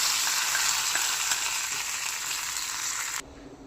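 A hot tempering hits tomato drumstick rasam with a steady, bright sizzle that holds for about three seconds, then cuts off abruptly, leaving a faint hiss.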